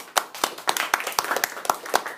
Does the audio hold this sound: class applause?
yes